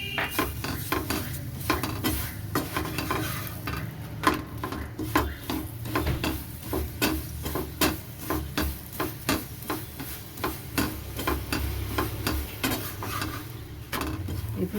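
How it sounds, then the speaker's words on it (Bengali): Methi paratha frying in a little oil in a pan, a soft sizzle under repeated clinks and scrapes of a utensil against the pan, close and steady. "এবার একটু তেল দিয়ে ভাজবো।"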